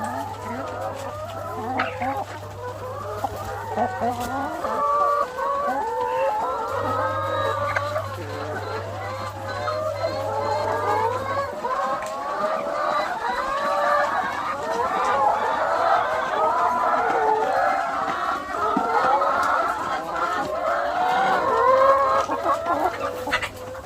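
A flock of laying hens clucks and squawks continuously at close range in winter, with busy overlapping calls and a low steady hum underneath.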